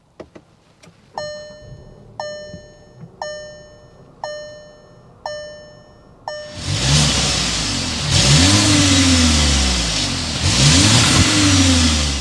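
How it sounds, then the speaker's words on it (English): A 2024 Volkswagen Tiguan SE R-Line: a series of evenly spaced electronic chimes, then the engine cranks and fires, followed by several strong revs rising and falling in the exhaust note, close and loud. "start it up, so you can hear that exhaust note"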